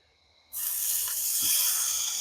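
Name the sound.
steak sizzling on camp grill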